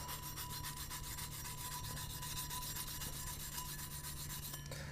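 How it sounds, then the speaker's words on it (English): A non-scratch pad scrubs a rusty chrome wrench soaking in white vinegar, giving a continuous close, even rubbing rasp with no talk. "I'm going to use one of these non-scratch pads to see if it helps at all."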